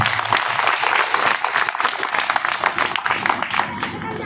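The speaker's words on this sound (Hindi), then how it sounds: "एसडीओपी सर के लिए पहले ताली बजाइए।" Audience applause at a gathering honoring an SDOP officer, a dense wash of many hands clapping steadily and fairly loud, with voices faintly mixed in.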